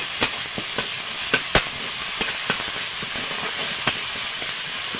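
Onion, dried chillies, ginger and garlic paste frying in a pan, a steady close sizzle and hiss with scattered sharp pops and crackles spread through the whole stretch, no talk over it.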